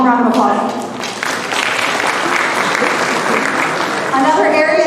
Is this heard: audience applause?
yes